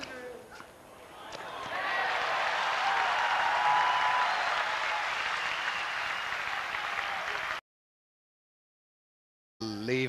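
At a 1999 Pioline versus Kuerten tennis match, the player applauds himself while lying on the court. Applause swells and holds for several seconds, then cuts to silence before resuming briefly.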